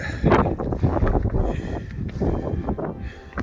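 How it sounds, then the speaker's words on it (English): Strong wind buffets the microphone on a cloudy Scottish mountain summit in Torridon, a continuous close, gusty roar that rises and falls in uneven surges throughout. "Just get down out the wind."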